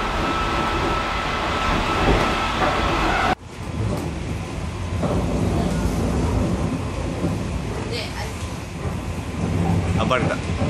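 A train rumbles steadily nearby at Sekigawa Station on the Yosan Line, with a sudden shift partway through, continuous heavy mechanical noise and faint background voices.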